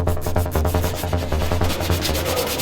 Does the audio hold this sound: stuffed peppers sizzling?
no